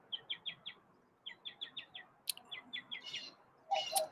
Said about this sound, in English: the birds are just going crazy